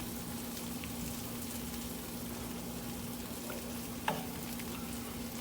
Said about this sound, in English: now I'm gonna add in a 1/4 cup of the extra sharp cheddar. Okay, and then we're gonna mix this in.